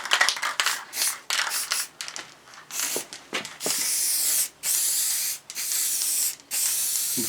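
Spray gun laying a thick final coat of paint onto a Triumph motorcycle bash plate, close, loud hissing bursts in short passes, then longer sustained sprays broken by brief pauses.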